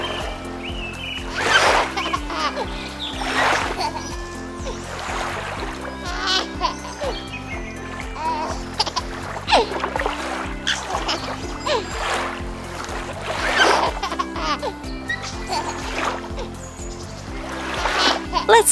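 Baby Annabell doll splashing with a floatie in a small toy pool, repeated wet sloshing bursts close by over a steady low musical background, with a voice talking intermittently.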